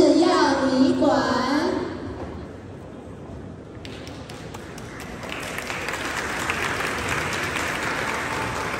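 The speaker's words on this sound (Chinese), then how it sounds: "掌声欢迎初阶管乐社登场" An audience at a junior high school club showcase applauds to welcome a beginner wind band onstage. A voice speaks briefly at first, then a steady wash of clapping from many hands builds and holds at moderate loudness.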